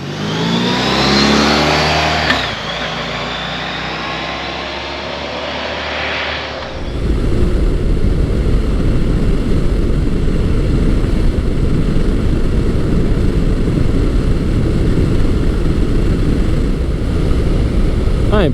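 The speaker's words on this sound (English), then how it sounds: "I am currently riding Honda's ST1300 ABS." Honda ST1300 ABS sport touring motorcycle engine revving up and then holding a steady, loud ride with broadband road and wind noise, no talk.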